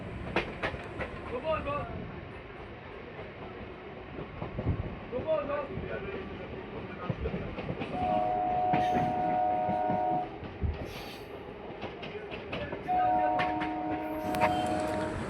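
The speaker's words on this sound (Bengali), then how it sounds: "আমাদের ট্রেন ছেড়ে দিল হুগলিঘাট স্টেশন থেকে।" A local train on the Naihati to Bandel line pulls out of Hooghly Ghat station with a steady rumble and rhythmic wheel clatter, and a sustained tonal whine or horn rises twice above the running noise.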